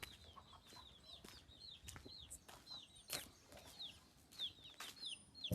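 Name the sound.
chickens clucking in a village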